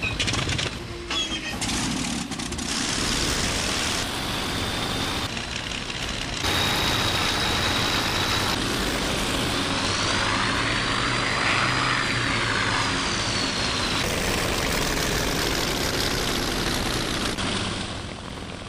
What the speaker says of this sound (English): Mechanics swing the starters. My engine at once thunders into life.